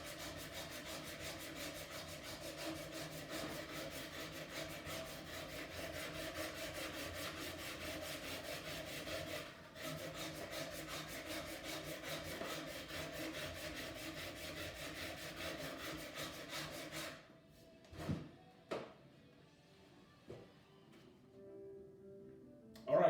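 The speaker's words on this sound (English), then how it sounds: "I've got a little flat right here that I'm trying to sand out." Steady hand sanding of a wooden gun stock during an English straight-grip conversion, a continuous close abrasive rub for about seventeen seconds, then stopping into near quiet with a few brief knocks.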